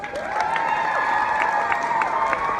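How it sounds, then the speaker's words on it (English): Convention panel audience at San Diego Comic-Con applauds and cheers steadily, a dense wash of clapping with a few shouted whoops rising above it, while melodic tones sound faintly underneath. "Give him a big round of applause."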